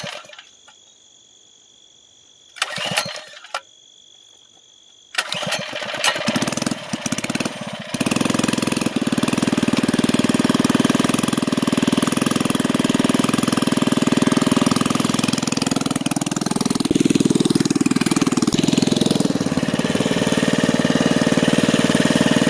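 A repaired mini bike motor at an off-road park starts after a few seconds of quiet clicks, then holds a loud, buzzing run that rises and falls in revs.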